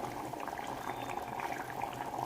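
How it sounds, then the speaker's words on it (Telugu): Mutton gravy curry still boiling in a clay pot after the heat is switched off, a steady close bubbling simmer with soft pops that holds even for about two seconds, with no talking. "ఆఫ్ చేసినా కూడా ఎలా ఉడుకుతుందో ఆ వేడికి."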